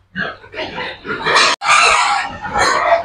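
Native pigs grunt and squeal loudly at close range in a rapid, overlapping run of calls, with a brief pause midway before the noisy squealing resumes.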